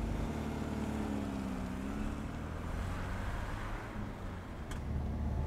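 A Citroen DS21 Pallas with a 139-horsepower engine and column-mounted manual gearbox pulls away in first gear, its engine a steady low drone under rushing wind noise, heard from inside the car.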